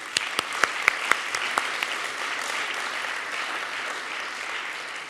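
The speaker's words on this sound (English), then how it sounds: "Please join me in a round of applause for them." Audience applause for the first graduating class of the City Build Chase Center Training Program, a few sharp claps at first swelling into a steady, dense wash of clapping that holds at moderate loudness for several seconds.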